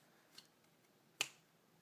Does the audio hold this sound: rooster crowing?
no